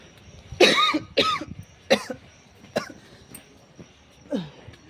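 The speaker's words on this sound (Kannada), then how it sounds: "ಯಾಕೋ ಸಡನ್ನಾಗಿ ಕೆಮ್ಮು ಸ್ಟಾರ್ಟ್ ಆಗೋಯ್ತು ನನಗಂತೂ" Several loud coughs from one person, close by, in irregular bursts with short pauses between them, the last one softer.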